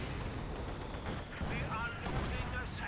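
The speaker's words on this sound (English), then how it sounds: "And the W120mm mortar is hitting hard." Mortar fire from a W120mm mortar in the Company of Heroes 2 real-time strategy game, dense rumbling impacts and gunfire-like bursts under continuous battle noise, with a commentator's voice running over it.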